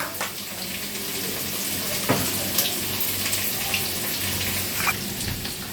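Water is poured onto chilli powder to mix a paste for a soybean and potato curry, a steady, moderate hiss of running liquid lasting throughout with a few faint clinks.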